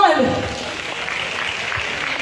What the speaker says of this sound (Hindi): जोरदार तालियां आनी चाहिए,